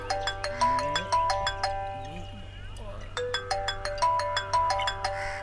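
A ringtone plays during a phone call, a loud repeating chime melody with short bursts, pausing briefly in the middle before resuming, while voices talk underneath.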